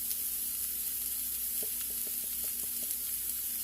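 Food sautés in a pan with a quiet, steady sizzle and hiss, joined midway by a series of soft tapping stirs in a loose rhythm, with no talking.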